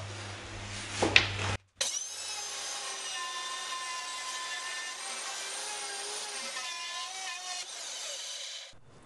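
Router bit cutting a shallow hinge recess into wood, a steady high whining cut with strong tonal harmonics lasting several seconds, preceded by a brief clatter and a short gap as the tool starts.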